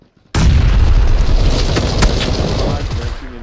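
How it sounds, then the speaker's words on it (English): A grenade explodes in PUBG, a sudden loud boom after near silence, followed by a sustained, rumbling blast tail that slowly fades. "Grenade on the left, careful."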